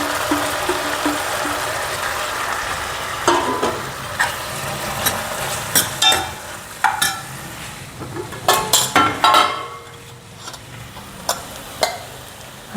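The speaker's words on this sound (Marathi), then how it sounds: "आता मी त्यामध्ये मूग टाकते, त्याला मोड आलेले आहे" Sprouted green mung beans tipped into potatoes frying in a pan, a steady sizzle with a run of sharp clatters and utensil knocks against the metal, close and fairly loud.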